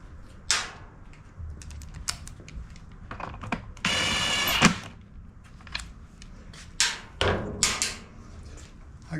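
Screws are put back into the cover of a Troy-Bilt TB200 push mower: scattered close clicks and taps of handled hardware, with one brief whirring burst of a driver midway, heard alone.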